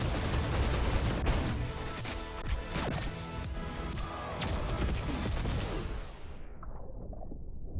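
Gunfire in GTTOD: Get To The Orange Door, a fast, loud barrage of repeated shots and crashing impacts for about six seconds, then dropping to a muffled, duller tail.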